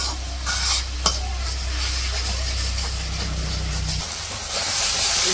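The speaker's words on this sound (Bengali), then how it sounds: "মশলা কষানো হয়ে গেছে আমি সবজি দিয়ে দেবো সবজিগুলো এখন কষিয়ে দিব ভালো করে" Spice paste of ginger, garlic, chili, turmeric and salt frying with vegetables in a pan for a village-style fish curry, giving a loud continuous hiss and sizzle with stirring and a low hum underneath.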